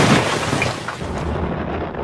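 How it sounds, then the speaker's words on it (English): A wartime V1 flying bomb, the pilotless doodlebug, explodes in a loud, sustained rumbling blast with a deep, roaring low end that holds steady for about two seconds. "Hitler's real secret weapon, the V1 rocket"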